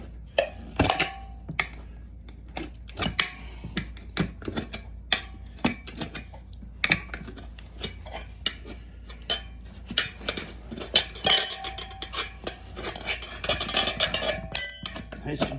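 Prying a tire bead off a Honda 110 rim by hand with tire irons: scattered metallic clinks and scrapes in an irregular rhythm, close and fairly quiet, with a person talking over the work.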